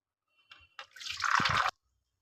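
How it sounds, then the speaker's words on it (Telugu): Soaked chana dal being strained of its water, a short splash then a steady pour and trickle lasting about a second, close and fairly quiet. "దీన్ని నీళ్లు లేకుండా వడకట్టేస్తాను."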